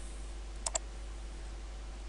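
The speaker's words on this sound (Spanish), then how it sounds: "Bien, ahora damos clic en OK." A computer mouse gives a quick double click, two faint, sharp ticks in close succession over low steady hum.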